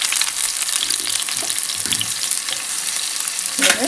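Finely cut green chillies and onions frying in a pan, a steady hissing sizzle close by with occasional soft stirring scrapes and crackles throughout.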